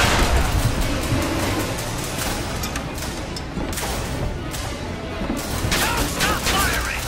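Gunfire in Bioshock Infinite: dense, continuous volleys of loud shots and booms filling the whole stretch, busy and chaotic with crashing impacts and no clear gaps.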